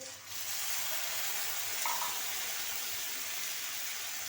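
Water poured into a hot frying pan holding sautéed potato and brinjal sabzi, producing a steady, loud sizzling gush that runs the whole time after a brief quieter start, with no talk.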